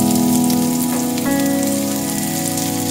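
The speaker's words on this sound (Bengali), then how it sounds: "আমি প্রথমে পেঁয়াজ কুচি দিয়ে দিই।" Chopped onion goes into hot oil for banana flower cutlets, setting off a loud, dense, continuous sizzle that stays close and even throughout, with faint clinks from the pan.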